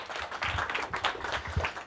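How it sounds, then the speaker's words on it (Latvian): Audience applause at a Latvian presentation and expert panel, a steady burst of clapping from many hands lasting about two seconds, fairly close and with no talk over it. "Vēlreiz īsi aplausi viņam"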